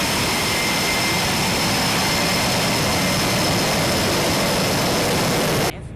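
An F-18 jet engine roars on an aircraft carrier's catapult before takeoff, a loud, steady, close blast that holds for nearly six seconds, then cuts off abruptly.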